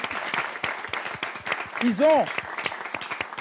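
Contest semifinal audience applauding the candidates, a dense patter of clapping running the length of the clip beneath a host's voice, with one voice rising in a brief sung or called-out phrase near the middle.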